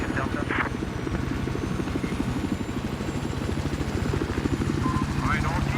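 In Battlefield 4, an attack helicopter gunship thumps loud and close with a steady, rapid rotor chop throughout, and voices talk over it.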